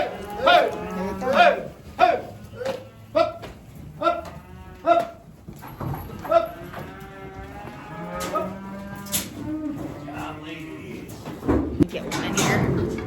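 Cattle moo repeatedly at a farm during weaning, with cows being moved through sliding gates toward scales; several loud, drawn-out calls come close by, with some talk and clanking in between.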